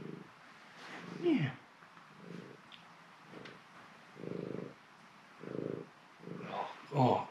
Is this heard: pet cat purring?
yes